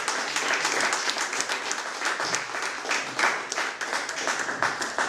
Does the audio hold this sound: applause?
yes